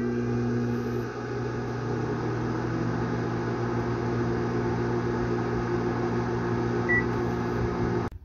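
A microwave oven runs from a LiFePO4 battery solar system, giving a steady, close mechanical hum for several seconds that ends with a short beep and a click.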